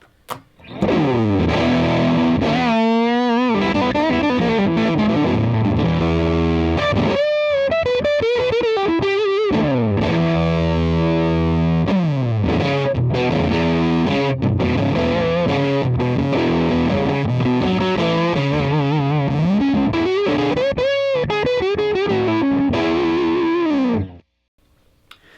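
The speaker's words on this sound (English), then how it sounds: "that's the way I like to use a fuzz. I like to use it into a cranked amp." Heavily fuzzed electric guitar through a loud, overdriven amp, with thick sustained chords and bending single-note lines that play continuously, then cut off abruptly.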